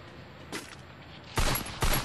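A shotgun firing in the Free Fire battle game: a faint shot first, then two loud, sharp blasts in quick succession near the end, with no voices.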